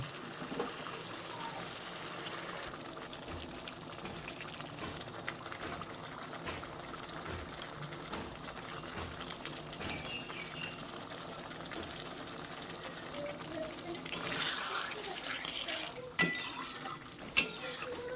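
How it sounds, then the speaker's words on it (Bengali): A pot of pointed gourd and poppy seed curry gravy simmers at a steady low bubble, a faint continuous watery burble with a few soft clinks of a utensil near the end. "ভালো করে এবার ঝোলটাকে আমি ফুটিয়ে নেব।"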